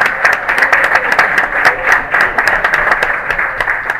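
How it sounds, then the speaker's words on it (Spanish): Warm clapping from an audience at an indigenous media congress in Santiago, Chile, loud and close with crisp individual claps in a brisk, continuous burst. "Así que un aplauso para Elisa."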